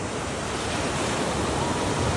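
Ocean waves break at the Hiriketiya surfing beach, a dense, continuous roar of surf and spray that stays loud and even throughout, with no talking.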